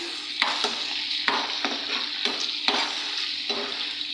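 Spices and whole chillies sizzle steadily in hot oil for a dal tarka while a spoon scrapes the pan in a few sharp, irregular strokes, close and fairly quiet.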